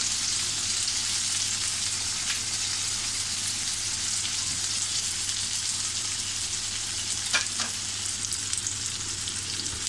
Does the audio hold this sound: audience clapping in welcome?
no